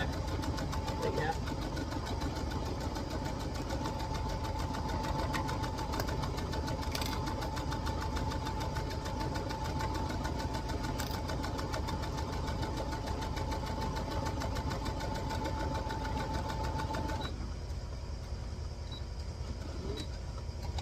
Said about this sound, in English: continue to sew all the way down